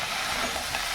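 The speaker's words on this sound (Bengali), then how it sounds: "এটা শুকনো শুকনো পাট শাক ভাজা হচ্ছে, পেঁয়াজ রসুন দিয়ে।" Dry jute leaves fry with onion and garlic in a pan, making a steady, close sizzling hiss that lasts less than a second with no talk over it.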